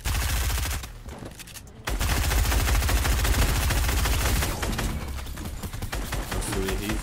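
Rapid video game gunfire in a shooter with a Travis Scott skin, dense continuous bursts of automatic shots that stay loud throughout, with only a short lull near the start.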